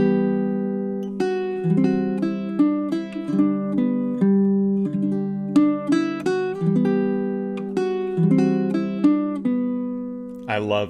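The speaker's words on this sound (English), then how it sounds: "measures 9, 10, and 11, and they should sound something like this" Measures nine through eleven of Danny Boy on a baritone ukulele, picked as a chord melody: a steady run of plucked chords and sustained melody notes, close and unaccompanied.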